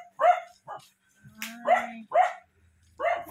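Several dogs bark nearby in short, uneven yaps, with a few overlapping barks and a brief whine between them.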